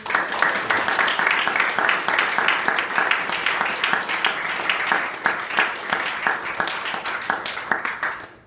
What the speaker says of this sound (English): so if we could have another round of applause